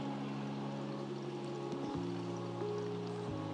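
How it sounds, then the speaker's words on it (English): Hot water at 92 degrees, 90 ml, poured for pour-over coffee extraction with the brewer's switch open, sounding as a steady, continuous rushing pour from start to finish over a low humming tone. "I'm pouring 90 ml at 92 degrees."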